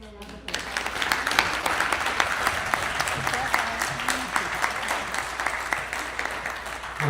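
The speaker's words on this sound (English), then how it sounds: "Can we just give them a round of applause?" A live audience at a Los Angeles community event on suicide and drug abuse gives a sustained round of applause, dense and steady after a sudden start, with faint voices underneath.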